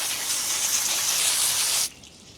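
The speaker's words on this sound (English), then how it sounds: "I'm just going to rinse them off" Running water gushes steadily over freshly harvested garden vegetables being rinsed, a close, hissing spray that cuts off abruptly near the end.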